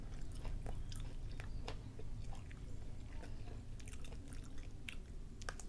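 Someone chewing tough, rubbery grilled scallop mantle served with soy sauce, with close, steady wet biting and squishing mouth sounds throughout, under a low constant background hum.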